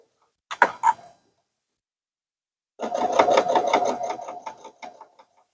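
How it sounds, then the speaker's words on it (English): A sewing machine stitching binding onto a quilt: a short double whir, a pause of silence, then a steady mechanical run of rapid stitching lasting about two seconds before stopping. "And then we can start sewing."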